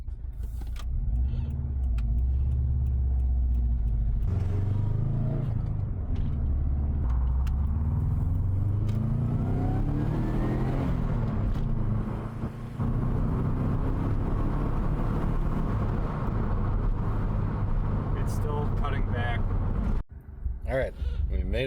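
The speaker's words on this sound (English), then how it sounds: "So car runs and drives good" A Subaru drives along a road, its engine and tire noise droning steadily with rising and falling engine pitch as it accelerates and slows, close and continuous, with people talking over it.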